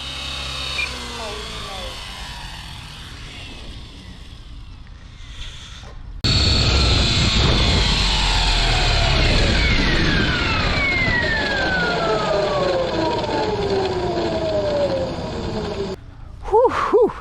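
RC helicopter doing a small autorotation: quiet rotor and wind noise at first, then a loud, sustained whine begins, falling slowly in pitch, with breathy gasps and exclamations from a nearby person near the end.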